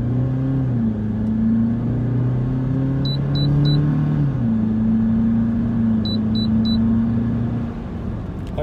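A Luxgen U7 turbo SUV fitted with an ARMA remote-controlled side exhaust valve revs and accelerates, its droning engine tone rising and steadying over several seconds, with faint electronic beeps twice in the middle.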